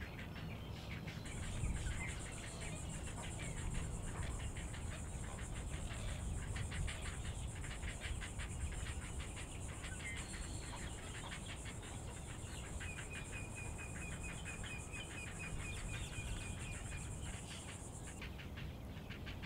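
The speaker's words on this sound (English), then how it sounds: "The hungry chicks immediately began making their signature ratchety sound." Hungry heron chicks give ratchety, rasping begging calls, a steady stream of rapid rattling pulses over a constant high insect-like drone throughout, with no talking.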